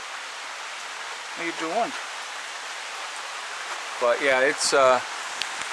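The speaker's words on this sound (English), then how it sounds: "You can see the rain really coming down on that now." Steady rain pours down at a homestead, falling on a car and nearby surfaces as a constant hiss, while a person speaks briefly over it.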